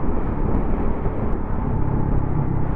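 A Triumph Scrambler motorcycle's exhaust rumbles steadily and close while riding on an open road in top gear, a continuous low drone with no talk.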